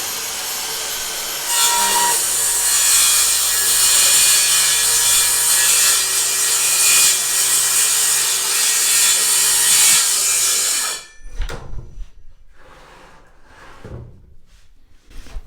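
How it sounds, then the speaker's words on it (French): A saw rips lengthwise through wooden boards during a home renovation, giving a loud, steady grinding cut for about nine seconds before stopping, then a few knocks and handling sounds. "Voilà, donc ça ce sont les planches que je viens de déligner."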